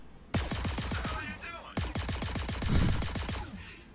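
Rapid automatic gunfire in a video game, firing in fast rhythmic bursts that stop briefly and then resume, loud and close.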